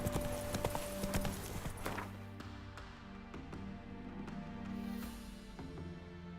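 Hooves of the horse Roach clip-clop at a gallop in The Witcher 3, a steady rapid rhythm of close, moderately loud hoofbeats under a musical backdrop.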